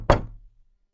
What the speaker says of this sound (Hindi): माया ने फोन रखा था कि इतने में किसी ने दरवाजा खटखटाया